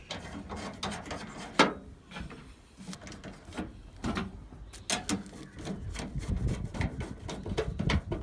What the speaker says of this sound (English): Make sure that the mounting holes line up, and then reinstall the screws.